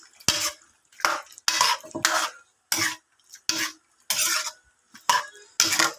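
Pork menudo with potatoes stirred in a pan, a rhythmic series of close, loud scraping strokes of a utensil against metal, about ten in quick succession, with no talking.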